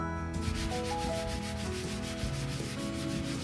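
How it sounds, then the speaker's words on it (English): A microfiber cloth rubs across a freshly sanded wooden chest of drawers in a continuous close, dry swishing, with a faint hum underneath and no talking. "Just using a microfiber cloth, making sure we get that sanding dust back off it."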